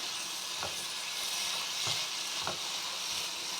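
Green chillies fry in hot oil with a loud, continuous hissing sizzle, broken by a few soft scrapes of stirring, close up and with no talking.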